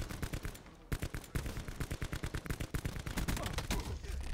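Rapid automatic gunfire in the Black Ops 4 multiplayer shooter, dense bursts of close shots running almost continuously with a brief pause near the start.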